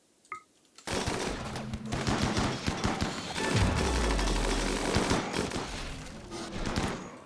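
In the video game Rimworld, sustained gunfire starts suddenly and keeps going as a dense volley of rapid shots. It is loud and continuous, with a deep rumbling boom partway through, and it does not let up until the end.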